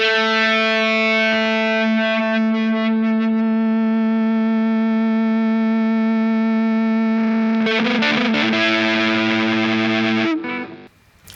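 A heavily distorted electric guitar through a Boss DS-2 Turbo Distortion and a Line 6 Helix feedbacker effect holds a sustained, droning note that swells into squealing feedback, loud and close, before cutting off abruptly.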